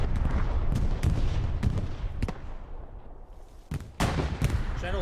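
Rapid, dense bursts of explosions and gunfire from a bombing run in the WWII shooter Hell Let Loose, booming heavily in quick succession with a brief lull before renewed blasts.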